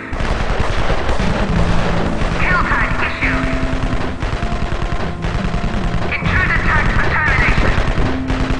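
Rapid bursts of gunfire from a villain's base in the video game Evil Genius, continuous rattling volleys under an ongoing game soundtrack, with voices talking over it.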